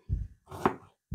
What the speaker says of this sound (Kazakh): осылай орташа мөлшерде тура жібереміз пиязды.